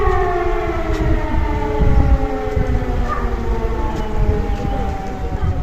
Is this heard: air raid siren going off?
yes